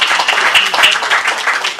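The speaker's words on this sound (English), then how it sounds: "we deserve a special applause for that" Brief, busy applause from the crowd at a cultural garden groundbreaking in Cleveland, many hands clapping close together at a steady, fairly loud level.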